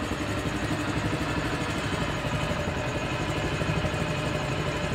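A Honda CD50 motorcycle idles close by, a steady rapid putter with a light mechanical clatter that holds evenly throughout, with no talking.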